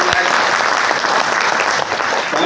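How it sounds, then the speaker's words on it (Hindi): Dense, loud applause fills an Indian self-education business seminar hall, a continuous steady wash of many hands clapping at once with no break. "फरजाना मैडम के लिए मैं चाहूंगा कि थोड़ी सी तालियां।"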